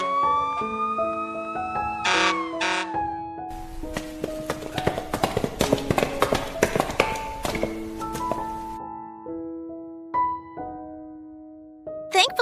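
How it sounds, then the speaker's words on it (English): An ambulance siren sounds in an animated cartoon, its wailing tones mixed with clip-clop taps and sharp bursts. The sound is loud and busy in the middle, then thins out to sustained tones and a few hits. "Send an ambulance now!"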